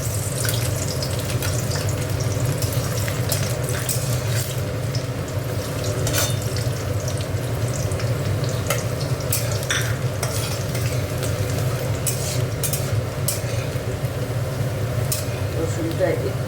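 Dried chili and chopped garlic frying in oil for red spinach, a steady close sizzle running throughout with intermittent stirring scrapes.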